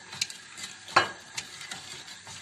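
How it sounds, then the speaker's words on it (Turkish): Sugar and water with a lemon slice are stirred in a pot, giving a few faint, quick scrapes and clinks over a quiet background. "Arada bir karıştırarak şekerimizi eridikten sonra kaynamaya bırakalım."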